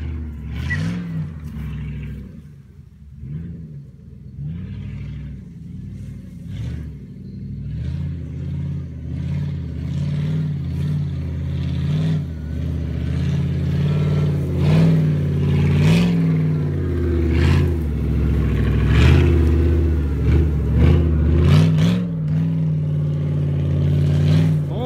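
A jeep engine with a 5000 cc displacement works hard while driving off-road, its revs rising and falling under people's chatter and growing louder toward the end.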